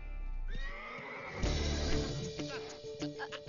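A horse neighs during a riding training session, a drawn-out whinny that rises and falls over background voices and ambient noise.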